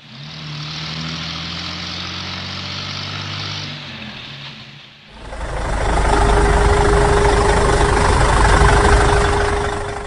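Farm ATV engine running steadily and loudly, a lower rumble for the first five seconds then a brighter, louder idle with a sustained whine after a brief dip.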